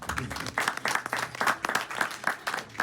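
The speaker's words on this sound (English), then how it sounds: "Can you guys please clap for yourself?" A small audience clapping for themselves at a mortgage business event, uneven individual claps close by with a rhythmic, patchy texture.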